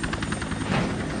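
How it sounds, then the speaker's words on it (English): A cartoon helicopter flies nearby, its rotor chopping in a loud, steady rapid beat over a constant engine drone, heard alone. "Somebody call for a helicopter?"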